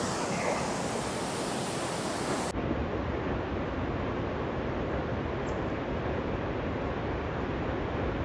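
Waterfall near Bruni village in Arunachal Pradesh: a steady, loud broadband rush of falling water that fills the whole clip without pause, with no voices over it.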